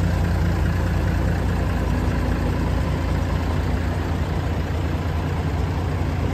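Mercedes MB Trac tractor engine running nearby in a farm yard, a loud, steady low rumble that holds constant with no pauses or talking.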